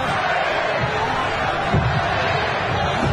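A wrestling arena crowd at a TNA event murmurs and stirs continuously, a dense, fairly loud wash of voices with a brief swell of reaction midway.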